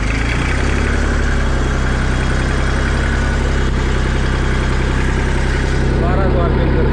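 A 1998 Massey Ferguson 35 tractor engine runs steadily at about 1200 rpm, a loud, continuous low diesel drone with a constant throb and no breaks.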